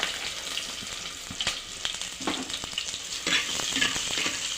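Onions and garlic frying in oil with fenugreek seeds for a fish curry, a continuous close sizzle with occasional crackles and stirring scrapes, and no voices.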